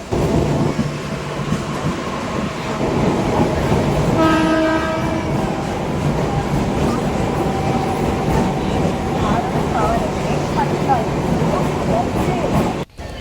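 At Mahbubnagar railway station, a goods train runs past on the next track, a loud, continuous rumble of wagons with a short horn blast partway through.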